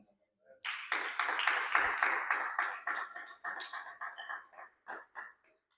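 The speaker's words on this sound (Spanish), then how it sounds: "Denle un aplauso al Señor." A church congregation applauding, fairly faint and distant, swelling into a brief burst of clapping that thins into scattered claps with pauses near the end.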